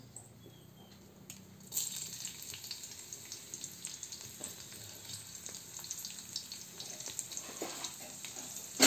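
Garlic dropped into hot oil in a pan, a steady close sizzle and crackle that starts abruptly and continues evenly, while cooking aloo bhindi.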